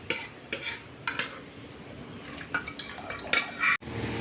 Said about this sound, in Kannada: ನಮ್ಮ ತಂಗಿ ಕೂಡ ಬಾಂಡೆ ತೊಳಿಲಾತ್ತಾಳ.